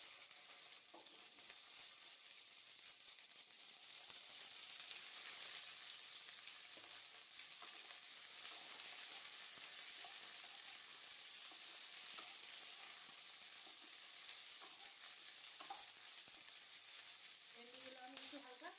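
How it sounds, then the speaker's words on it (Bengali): Okra frying in hot oil in a pan, a continuous bright hiss and crackle of sizzling that holds steady and close throughout, with a faint clatter near the end. "এবার আমি এর মধ্যে ভেন্ডিগুলো ভেজে নেব।"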